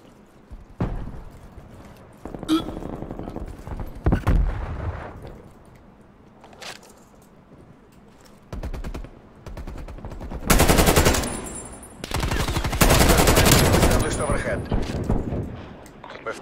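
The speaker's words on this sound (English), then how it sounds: "This shotgun." Shotgun blasts in Call of Duty Black Ops ring out as scattered loud booms, with several heavy bursts of gunfire grouped late on, mixed with mechanical clanks and game voices talking in between.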